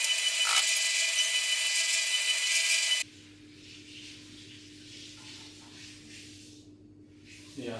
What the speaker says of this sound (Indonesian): Jadi ini aku mau giling kulit pangsit dulu ya.